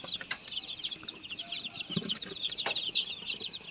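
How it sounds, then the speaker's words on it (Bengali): Fifty Fayoumi chicks, fourteen days old, peep continuously in high chirps, many birds at once and close by, with occasional soft clucks and brief wing flutters and no talking. "এটা হচ্ছে আমার পঞ্চাশ পিস ফাগুন মুরগি বাচ্চা আজকে এদের বয়স চোদ্দ দিন চলছে"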